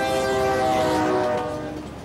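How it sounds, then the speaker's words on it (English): A train at a road crossing sounds a loud sustained horn over a rumbling rail roar, and the whole sound eases off toward the end. "Trains. We never even think about them until we hear that clanging bell."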